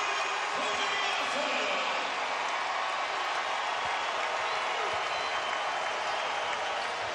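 Basketball arena crowd in a college men's game, Texas Tech against Kansas, cheering and applauding as a steady, dense roar of claps and voices throughout, with a commentator talking over it.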